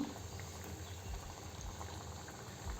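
Homemade biscuits deep-frying in hot oil, a steady low bubbling and crackling that runs the whole time, fairly soft and near, with no voices.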